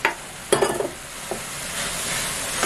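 A spoon works mashed banana and grated coconut together in a hot pan for a Kerala snack, giving a few close scraping stirs over a low steady sizzle, with no talking.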